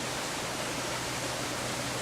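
Creek water flowing steadily outdoors, a broad continuous rushing wash with no break, close and even throughout, no voices.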